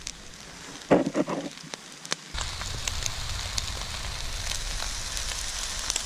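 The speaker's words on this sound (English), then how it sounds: "Oh yeah, you hear that frying there?" After a brief clatter, a steady crackling sizzle of food frying in a cast iron pot carries on continuously at close range, outdoors.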